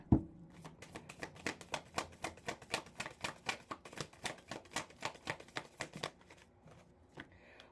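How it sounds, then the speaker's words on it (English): Oracle cards being shuffled by hand in a steady run of crisp riffling snaps, fairly close and clear with no talk, tapering off near the end with one last tap. "Let's get a good shuffle here."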